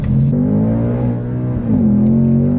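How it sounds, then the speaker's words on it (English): A 2024 Ford Mustang GT with an automatic transmission revs loud and close inside the cabin. Its engine note sags and stumbles through a rough gear change before pulling back up into a steady drone. "That was a bad shift."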